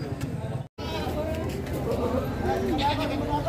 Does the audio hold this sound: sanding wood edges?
no